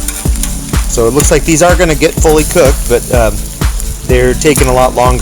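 Burgers cook over charcoal briquettes on a Coleman tabletop grill with a low, steady sizzle, largely covered by someone talking close to the microphone.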